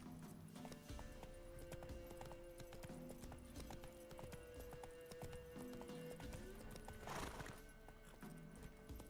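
Horse hooves trot steadily in The Witcher 3, giving a continuous clip-clop under the game's ambient soundscape, with one brief neigh partway through and no talking.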